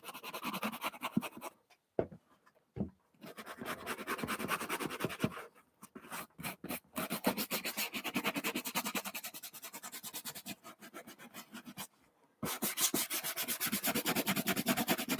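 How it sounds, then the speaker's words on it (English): A cloth rubs polish into Altberg Defender leather boots in close, rhythmic scrubbing strokes, with brief pauses between bursts. "Here we're polishing it in."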